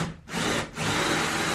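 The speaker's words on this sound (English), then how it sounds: "I'm just going to drill a single hole here" Drilling a single hole through a wooden board for a castle bunk bed build, two bursts of harsh, scratchy bit noise close up with a brief pause between them.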